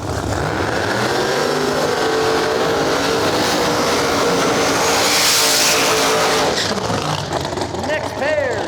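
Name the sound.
drag racing cars doing burnouts at Rockingham Dragway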